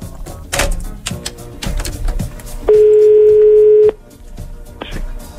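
Telephone call placed from a Hungarian morning radio studio: a single steady tone rings out loudly for about a second amid clicks and dialing noises, followed by a brief shorter beep.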